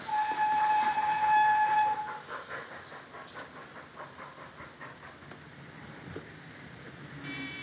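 A train passes with a steady rumble and clatter, a sharp whistle sounding over it at first before the rolling noise continues.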